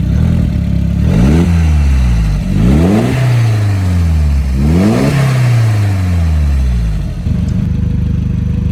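A Toyota MR2 Mk3 with a swapped 1.8T engine revs three times in quick succession, each blip rising sharply and falling back to idle, loud and close, before settling into a steady idle.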